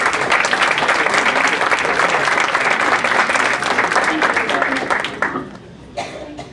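Dense, loud audience applause at an awards ceremony, sustained clapping from a full room that fades out toward the end.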